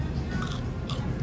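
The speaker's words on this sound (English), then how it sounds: "Let's try a fry." Crisp crunch of biting into a hot, crispy french fry from a Taiwan 7-Eleven, with two close bites and chewing.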